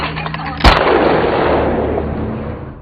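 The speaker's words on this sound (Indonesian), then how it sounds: "Namun yang lebih kejam adalah para pemburu itu dengan sekonyong-konyong menembak anaknya." A single sharp gunshot cracks out over a loud, dense background roar, fired by hunters in the film Prey.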